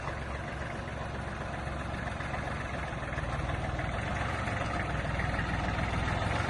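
A Kubota L1-215 mini tractor rolls in reverse with a steady low diesel drone and a faint rattle, holding an even level without revving.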